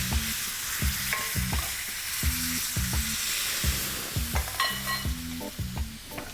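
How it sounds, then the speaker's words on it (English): Wine hitting a hot pan to deglaze browned meat juices, a steady loud sizzle with utensil scraping and stirring knocks over it, no voices. "This is going to sizzle like crazy, but I'm going to put some"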